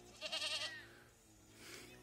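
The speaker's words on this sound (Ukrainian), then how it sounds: "Вредна коза." A goat on a small farm gives one loud, wavering bleat close by, then quieter farmyard background follows.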